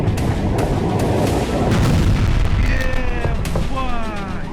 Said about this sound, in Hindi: रूस के हथियार गोदाम में ब्लास्ट हुआ।